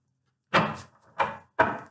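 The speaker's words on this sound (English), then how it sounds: "a couple more shuffles here" Tarot cards are shuffled in three quick riffles, each one a short, close, papery burst followed by a brief pause.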